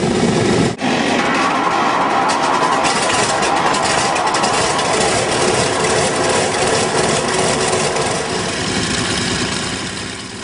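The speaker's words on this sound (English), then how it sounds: "Check out this four-engine Douglas DC-6." A four-engine Douglas DC-6 propliner runs its radial piston engines, a loud, dense, continuous roar close by that holds steady for the whole stretch and eases slightly at the end.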